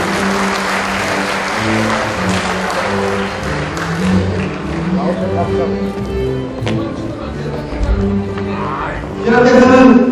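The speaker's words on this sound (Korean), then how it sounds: "큰 박수 부탁드리겠습니다." An audience applauds during an inauguration ceremony for the head of a Korean federation of trade and economic associations, a steady wash of clapping running under music and voices throughout.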